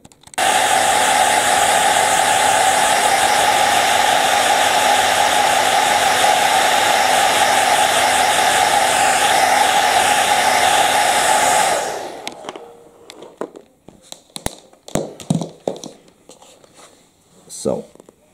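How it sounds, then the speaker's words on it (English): A hair dryer blows steadily and loudly on wax filler in a chipped laminate floor repair, a constant broadband whoosh running about twelve seconds before cutting off, followed by quiet handling clicks and taps. "get a blow dryer and blow on it a bit"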